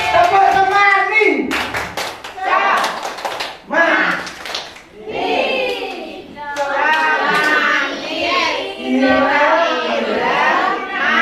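Group clapping game at a 2022 work meeting, with rhythmic hand claps in bursts mixed with lively voices and chanting over the whole stretch.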